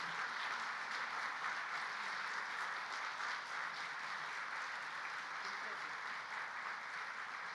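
A large crowd applauds steadily as the Prime Ministers of India and Japan are seen off, a dense wash of clapping that holds at an even level throughout.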